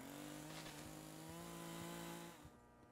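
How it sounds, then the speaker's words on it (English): Chainsaw in the video game Escape The Backrooms: a close, buzzing engine drone with a steady pitch that holds for a couple of seconds, then cuts off abruptly near the end. "the chainsaw goes enters the room before Snow does."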